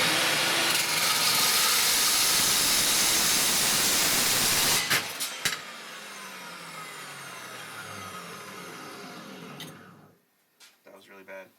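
A saw cuts stainless steel tubing in a garage, a loud continuous hissing grind that stops abruptly after about five seconds, followed by a fading whine and a few sharp clanks and knocks.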